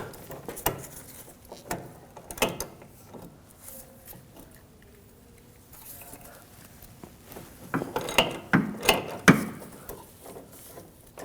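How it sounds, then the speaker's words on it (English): A ratchet with a 16mm socket loosens the nut on a rear sway bar link of a 2006-2009 Audi S4, giving scattered close clicks and metallic clatter that turn quicker and louder toward the end. "then a 16mm socket. I'm going to take the nut off."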